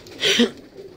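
A single short, throaty coo from a desi pigeon sounds close by and fairly loud, lasting under a second.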